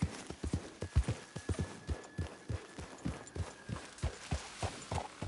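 In the video game Red Dead Redemption 2, a steady clip-clop of horse hooves walking at an even pace, each hoof strike distinct and close, continuing throughout.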